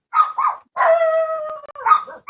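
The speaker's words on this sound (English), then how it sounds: "There's dogs." Dogs howl and bark close by, with a couple of short barks followed by a long wavering howl and more yelps, loud and clear with pauses between calls.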